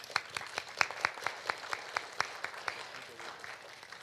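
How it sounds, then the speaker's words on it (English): Applause at a student music concert: a small audience claps in distinct, spaced strikes, moderately close, with a light murmur beneath. "let's give them another round of applause."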